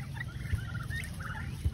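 Low, throaty turkey gobbling and clucking nearby, a steady burbling call with a couple of deeper pulses, no talking.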